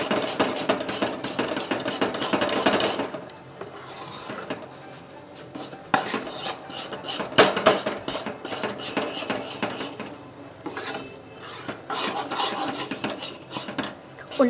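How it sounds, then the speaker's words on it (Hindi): A thick barfi mixture is stirred in a pot with an upturned spoon, making near, irregular metallic scrapes and knocks that come in bursts with brief pauses. "उल्टी चम्मच से ही चलाइए जिससे गुठली ना पड़ पाए इसमें।"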